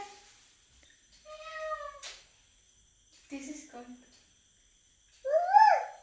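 A child imitates a cat, giving short, high, drawn-out meows separated by quiet gaps in a hushed room, ending in a louder, rising mew.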